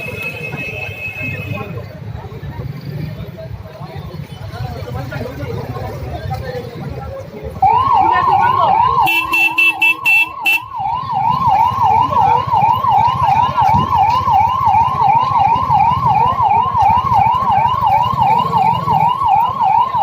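An ambulance siren in a street scene after a gas cylinder incident, starting mid-clip and wailing loudly and steadily in a rapid repeating up-down pattern, with crowd voices and traffic noise underneath throughout.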